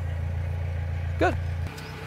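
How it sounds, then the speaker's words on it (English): A narrowboat engine runs steadily after start-up, a low, even throb close by with a brief voice over it before the rumble drops slightly in level. "we'll turn the engine on, let the engine run for 5-10 minutes, get it warmed up before we set off"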